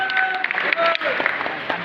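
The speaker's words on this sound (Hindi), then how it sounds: "हमें एक बार अपने लिए जरूर बधाई देना चाहिए जोरदार ताली के साथ" Audience applause at a Safe Shop direct-selling event in Jaipur, a crowd clapping in quick, scattered bursts under a presenter's amplified speech.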